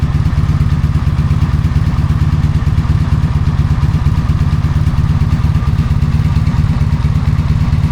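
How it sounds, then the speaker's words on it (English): Four-cylinder engine of a 1983 Honda V45 Magna motorcycle running steadily at idle, a loud, close, even rhythmic thrum without change throughout, with no talking. "My brand new marketplace purchase. 1983 Honda V45 Magna 4-cylinder."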